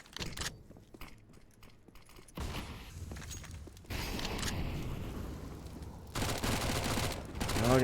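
Gunfire from SMGs and AK rifles rattles in a competitive tactical shooter match, with bursts of rapid fire and a busy, noisy mix of shots and mechanical clatter that builds toward the end.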